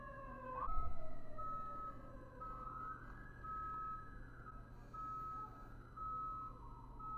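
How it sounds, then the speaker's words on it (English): Wailing sirens rise and fall in the distance over a low rumbling drone, a steady repeating electronic tone running throughout. "Let's appreciate the sirens one last time."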